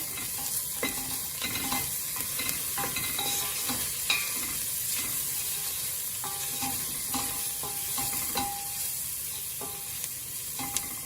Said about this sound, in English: So I'm adding my hing, masala and turmeric. And just give that a stir.